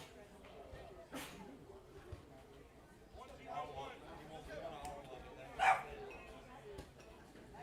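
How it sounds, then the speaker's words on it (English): Dogs bark at an outdoor high school varsity baseball game, a few sharp yips and barks over crowd murmur and talk, one bark standing out louder near the end. "Got a dog at the ballpark."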